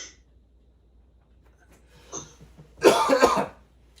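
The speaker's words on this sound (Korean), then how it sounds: "기침이 전염되는 것 같습니다." A single loud burst of coughing rings out during a church sermon, close and sharp for under a second, after a fainter throat sound and near-silence.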